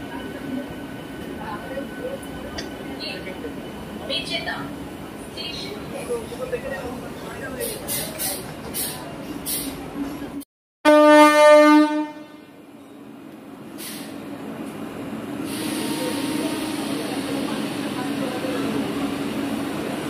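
A local train pulling out of Mecheda station sounds a single loud, sharp horn blast midway, after and before a steady rumble of carriages and a murmur of passengers talking.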